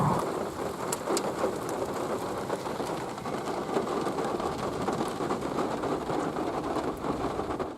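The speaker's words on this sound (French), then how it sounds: "vraiment un très bel orage, une très belle ambiance" Steady heavy rain falls outdoors during a French thunderstorm, a dense, continuous hiss close by, with faint rumbles of thunder behind it and no voices.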